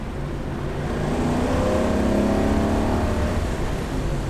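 A 1960 Chevrolet Corvette on bias ply tires accelerates hard, its engine revving up toward the red line in a loud, continuous, rising roar heard from inside the car.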